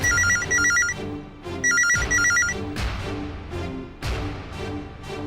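A loud electronic phone ringtone plays in repeated bursts of warbling tones, joined by a rhythmic musical backing that continues between rings.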